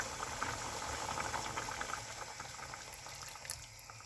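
Prawn curry bubbles at a steady, soft boil in a covered pot, a continuous low burble and hiss with small popping bubbles throughout, faint and unaccompanied by talk.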